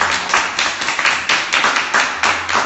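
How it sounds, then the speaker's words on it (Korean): An audience claps for bereaved Sewol ferry families at an Ansan memorial gathering, steady close hand claps in an even rhythm, loud with no voices over them. "뜨겁게 박수 한번 쳐주셨습니다"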